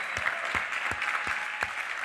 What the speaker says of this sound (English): You guys join me in a big round of applause while we join a little R&R.